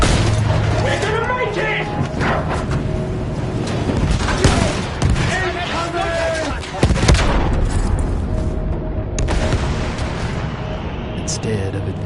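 Battlefield 1 World War I combat with a dense barrage of gunfire, booming explosions and artillery, loud and continuous, while someone shouts over the din.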